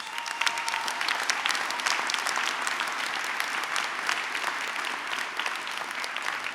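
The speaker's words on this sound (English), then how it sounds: "So give yourselves a round of applause." Graduates at a university college commencement ceremony break into a sustained round of applause, a dense, even wash of many hands clapping filling a large hall throughout.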